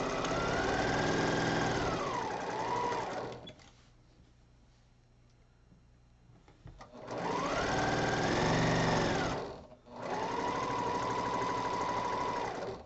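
Sewing machine stitching quilt fabric pieces in steady whirring runs, two long bursts separated by a quiet pause and then a third run, close and alone.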